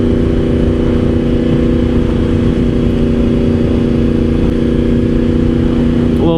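A Yamaha R1 motorcycle cruises in 5th gear on cruise control, its engine holding a loud, steady droning hum with constant wind rush throughout.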